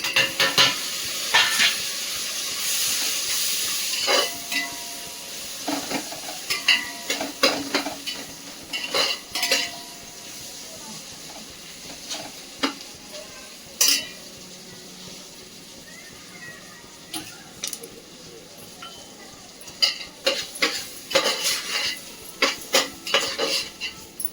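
Chopped tomatoes sizzling in a pan with fried onion, garlic and coconut while being stirred, a soft fry under repeated scraping and clanking of a metal spoon against the pan in irregular bursts.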